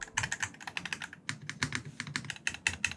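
Dense, rapid keystrokes on a modded Wooting 60HE keyboard, clacking close and clear in an uneven typing rhythm with no voices.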